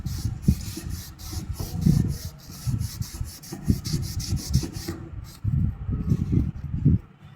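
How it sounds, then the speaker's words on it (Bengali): A cotton cloth rubs and wipes liquid penetrant off a metal weld zone, giving close, uneven scrubbing strokes with faint rasping and no speech. "ওই পেনিট্রেন্টটাকে ভালো করে আমরা সুতির কাপড় দিয়ে এখন মুছে নেব ওয়েল্ডিং জোনটাকে"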